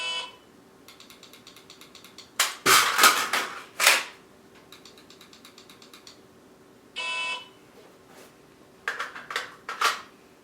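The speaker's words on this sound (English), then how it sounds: "I'm just going to drop the magazine and swap it out." Rifle magazine dropped and swapped during dry fire practice, sharp metallic clacks and a ratcheting mechanism rattle, a few loud snaps amid quieter repeated clicking at close range.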